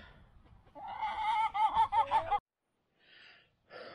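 Hens clucking and squawking in a chicken run, a close burst of rapid complaining calls followed by quieter clucks with pauses between them.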